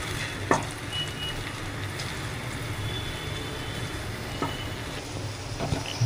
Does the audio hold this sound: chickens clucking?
no